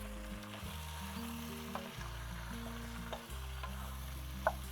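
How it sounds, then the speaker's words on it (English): Onions frying to golden brown in a pot for a South African tomato lamb stew, a steady sizzle with occasional stirring knocks, heard alongside a sustained low musical drone. "to turn a lovely golden brown, right? Because that golden brown is going to offer a delicious caramelly taste to this dish. Let's just stir it in."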